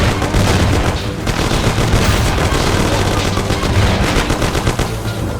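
Rapid automatic gunfire rattles nonstop in a Mafia video game shootout, loud and dense bursts overlapping with booming shots, close and intense for the whole stretch.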